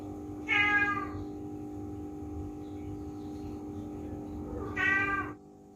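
A female and male cat during mating give two loud, drawn-out meows, one near the start and one near the end, over a steady electrical hum with quiet stretches between.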